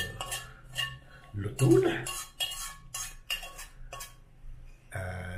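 Metal utensils clink and scrape against dishes while adobong galunggong is plated, in a series of short, bright hits with a louder cluster near the middle, under intermittent casual talk.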